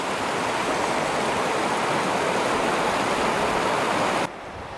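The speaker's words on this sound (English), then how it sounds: "show you the water exiting Evolution Lake" Water pouring out of Evolution Lake along the John Muir Trail, a steady, loud broadband rush like a stream or small cascade, close by, continuous for over four seconds before dropping to a softer level near the end.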